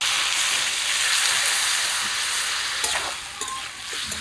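Ginger paste and turmeric fry in a pan, a loud, steady sizzling hiss that eases slightly toward the end as a few stirring scrapes cut through.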